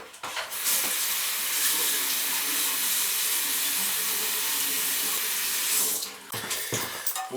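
A toilet flapper is rinsed under a running tap, a loud steady rush of water lasting several seconds before cutting off into brief splashes and handling noises.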